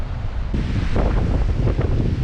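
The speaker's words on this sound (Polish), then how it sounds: "coraz większe na morzu, coraz większy szum i wiatr" Strong wind buffets the microphone over the rushing wash of sea surf, loud and close, swelling and surging throughout.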